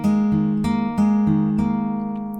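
A fingerpicked acoustic guitar pattern, with steady plucked notes ringing over a sustained low chord, clear and close with no talking.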